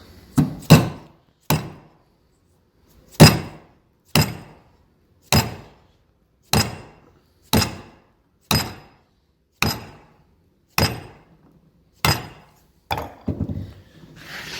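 A wooden mallet drives a chisel into a door to cut the recess for a hinge: about fourteen sharp, close wooden knocks at a fairly steady pace, each dying away quickly, with no talking.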